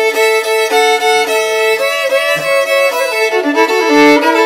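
A violin is played fiddle-style with a bright, lively bowed melody in quick strokes and shifting notes, loud and close, with no talk over it.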